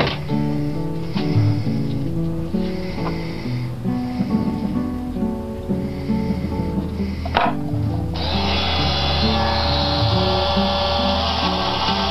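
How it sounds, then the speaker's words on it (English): A drill grinds steadily through hard material, boring the main hole down the center of a model carronade with a larger bit, its motor pitch shifting as the bit bites in, pausing briefly before resuming louder and harsher. "then I'll drill the main hole down the center of the carronade with a larger drill bit"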